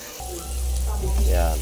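Water is poured into a hot pan holding fried maya-maya fish for fish soup, producing a brief, loud hissing sizzle over a low rumble.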